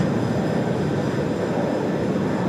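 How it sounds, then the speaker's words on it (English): Jet engine noise from an RAF Boeing 737 BBJ taxiing at Sydney Airport, a steady broadband roar held at an even level throughout, with no talk over it. "the RAF 737 BBJ just taxiing out as well"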